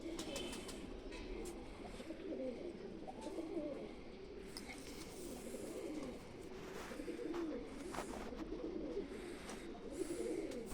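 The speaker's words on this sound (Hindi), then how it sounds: "अब आप खुद ही बताएं जी ये कहाँ के कबूतर हैं" Pigeons cooing softly and continuously at a distance, low murmuring coos layered over one another with occasional faint bird chirps and light background noise.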